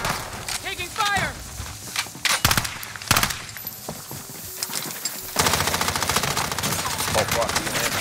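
Bursts of gunfire ring out in the video game Warzone, with rapid machine-gun rattles and single shots in irregular clusters, loud and close, ending in a dense sustained volley, while voices talk under and between the shots.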